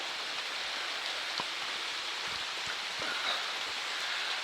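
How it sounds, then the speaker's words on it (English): Steady rain falls through the woods at an Alabama deer camp, a soft even hiss with scattered faint drops tapping nearby, no voices. "It's raining here"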